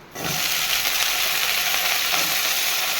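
Cut potatoes and carrots drop into hot oil in a pan, bursting into a loud, steady sizzle that starts abruptly and keeps hissing evenly with no talking.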